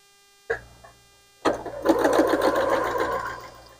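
A sewing machine stitches across place mats: a short burst, a pause, then a steady run of fast mechanical whirring and clatter close by for about two seconds, with no talk.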